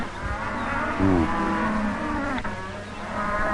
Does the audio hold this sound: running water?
no